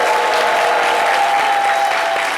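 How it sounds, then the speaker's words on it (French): Dense, steady applause from a studio audience on a French midday TV show as the artist is accompanied off, a continuous wash of clapping with a faint tone underneath. "Toujours avec des applaudissements, nous allons accompagner notre artiste."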